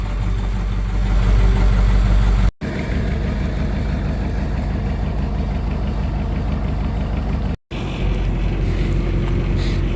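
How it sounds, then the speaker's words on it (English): An engine on a mangled early Ford Bronco and Scout parts build idles roughly on a cold start, a loud, steady low rumble with wind buffeting the microphone and two brief dropouts. "this thing doesn't really like to idle when it's cold. We'll let her warm up for about a minute"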